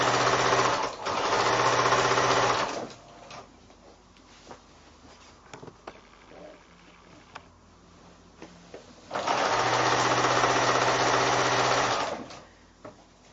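A sewing machine stitches quilt block pieces together in two loud, steady bursts of rapid whirring, separated by a quiet stretch of small handling clicks and taps.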